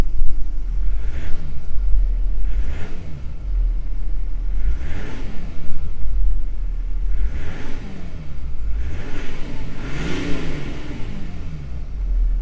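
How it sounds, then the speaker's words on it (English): A Mercedes G350d with a six-cylinder diesel engine idles and revs, its low engine drone rising in repeated swells, fairly close and steady with no talking. "Starting up the car. Very, very silent engine here. We have the 6-cylinder diesel engine."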